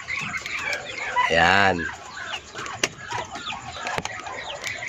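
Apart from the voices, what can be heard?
chickens clucking on a farm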